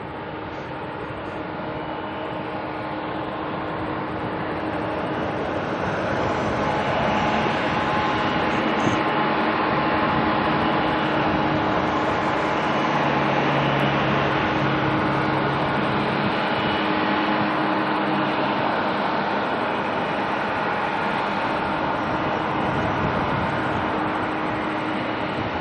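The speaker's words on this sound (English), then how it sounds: "they're giving it a little bit of thrust to try and make sure everything's all good" A United Airlines airliner at Auckland Airport runs its engines up to apply thrust, producing a loud, steady broadband roar with a low hum that swells slightly after the first few seconds and holds without letting up. No one speaks.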